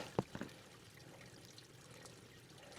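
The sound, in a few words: water running inside ice at a beach spring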